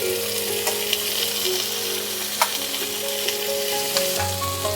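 Young jackfruit pieces fry lightly in oil with a steady close sizzle, a few sharp spatter pops standing out, and a low humming tone running underneath.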